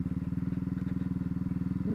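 Honda CB Twister 2019 motorcycle riding a sandy dirt road, its single-cylinder engine putting out a rapid, even low thumping that stays close and steady throughout.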